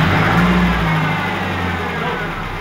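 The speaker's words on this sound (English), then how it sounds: "start this truck up" A turbocharged Chevy S10 pickup from a budget turbo build rumbles loudly at close range, the engine revving briefly and then settling into a steady idle.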